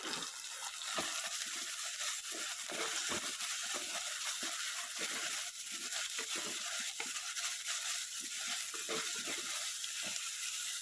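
Curry leaves tossed into hot oil for a pepper-roasted sardine curry give a steady, close sizzle and crackle with faint stirring clatter, continuous throughout with no talking.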